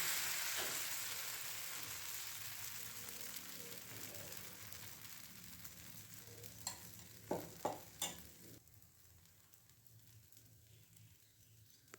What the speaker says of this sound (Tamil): தோசைக்கல் வச்சு ஊற்றி காட்டுறேன் பாருங்கள்